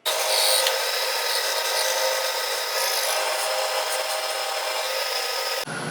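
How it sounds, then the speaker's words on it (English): A drill bit grinds harshly and continuously into a metal carburetor, loud and close, with a gritty scraping texture that cuts off abruptly near the end. "I see the drill bit trying to deflect."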